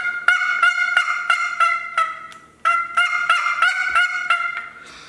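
Rapid raspy yelps from a turkey box call imitating a hen come in two loud, close runs of repeated notes separated by a brief pause, tapering off at the end.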